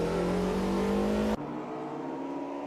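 Race cars in a historic Le Mans race roar loudly at close range with a steady, buzzing engine drone that drops abruptly to a lower, thinner engine note partway through.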